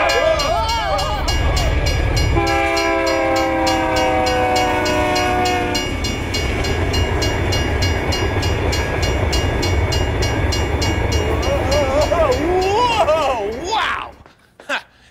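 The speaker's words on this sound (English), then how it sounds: "Rich, did you see that freight train that just blew by" A freight train roars past with a long, loud horn blast and a constant rumble and clatter of wheels, then cuts off abruptly near the end.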